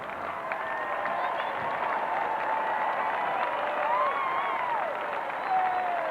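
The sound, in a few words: stadium crowd reacting and applauding at opening ceremony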